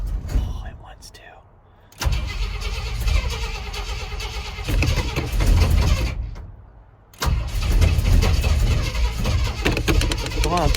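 An engine cranks repeatedly and tries to catch after more fuel is added, in several loud sustained bursts separated by short pauses.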